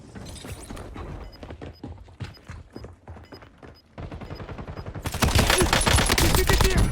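Gunfire in the Warzone battle royale game crackles in rapid bursts over busy game ambience, swelling into a dense, louder volley near the end.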